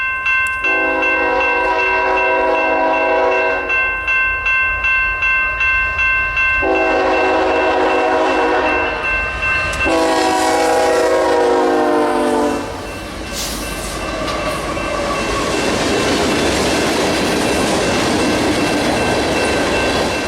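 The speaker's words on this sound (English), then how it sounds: "This is train MOGPD, manifest out of Ogden, Utah for Portland, Oregon." A Union Pacific manifest freight train sounds its horn in several long blasts at a crossing in winter, then roars past loudly nearby with rumbling wheels and rushing noise.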